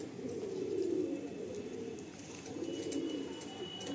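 Madrasi pigeons give low, throaty coos in two drawn-out swells, nearby and moderately soft, with no one speaking.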